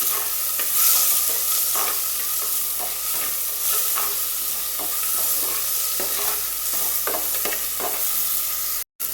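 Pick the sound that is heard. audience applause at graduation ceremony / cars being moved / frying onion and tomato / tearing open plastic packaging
frying onion and tomato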